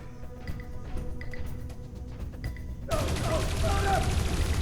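Gunfire in the video game Dreamfall Chapters: a rattling, busy game soundscape builds into a dense, loud burst of shooting that holds steady to the end.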